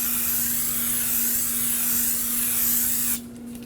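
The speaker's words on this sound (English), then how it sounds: "Grab yourself some brake parts cleaner, spray on the rotor." A steady, loud hiss of brake parts cleaner sprayed on a brake rotor of a 2011-2016 Kia Optima runs for about three seconds over a constant low hum, then cuts off abruptly.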